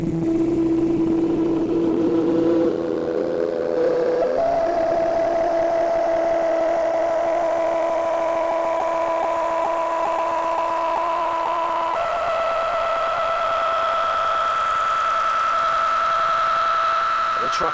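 A synthetic video game truck engine drone, driving in reverse, holds a steady tone, then steps upward in pitch twice into a higher whine, continuous and loud without pauses.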